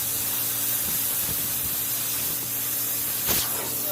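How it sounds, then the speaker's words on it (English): Compressed air is blown into a motorcycle carburetor valve, making a steady close hiss that runs unbroken throughout, with a few faint knocks beneath it and no talking. "shoot a little air up that valve, and see if we can't get it to break loose"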